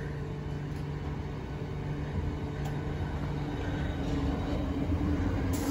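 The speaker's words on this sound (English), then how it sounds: "now leaving is the 1630, southeastern service from St Pancras International to Ramsgate, 395013" Southeastern Class 395 unit 395013 pulling away from a platform at Deal, a steady low rumble with a faint whine that swells slightly as the train gets moving.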